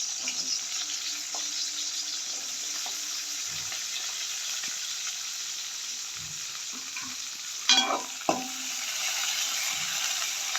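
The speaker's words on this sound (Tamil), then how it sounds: "வெங்காயம் பூண்டு பச்சை மிளகாய் தேங்காய் போட்டு காய்ப்போம்" Onion, garlic, green chili and coconut fry in hot oil for a Jaffna-style boonchi curry, a steady hissing sizzle with soft low knocks and a louder clatter of stirring near the end, no voices.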